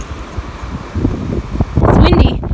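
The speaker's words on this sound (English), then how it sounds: "It's windy." Wind gusting at a beach at low tide while shelling, a steady blustery rush across the mic that swells louder toward the end, with a voice talking over it.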